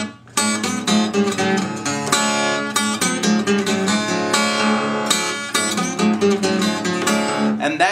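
An acoustic guitar plays a blues intro riff, plucked notes and bends, close and clear, with rhythmic phrases and no voice.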